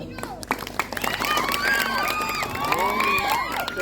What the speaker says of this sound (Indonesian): Tepuk tangan dumun.